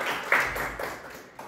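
A scattered round of applause from an audience at a bull-selection event, a few hands clapping briefly and fairly sparsely, fading out within about a second and a half.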